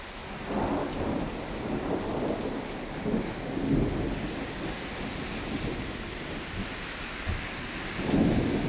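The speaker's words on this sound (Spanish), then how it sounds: "Está lloviendo a cántaros en paterna, señores." Heavy rain pours steadily in Paterna, Spain, a dense hiss of downpour with low rumbling thunder swelling at moments throughout, no voices.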